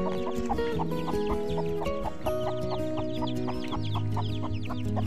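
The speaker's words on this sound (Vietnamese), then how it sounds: "Đây có con gà đen đấy các bác ơi" Black jungle fowl clucking repeatedly in a steady rhythm, close and fairly loud, with other chickens and farm birds calling around it at a bird market; no talking.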